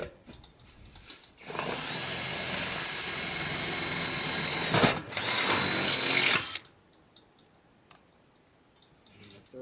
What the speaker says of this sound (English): Make sure when you're drilling, you're not drilling into your leg.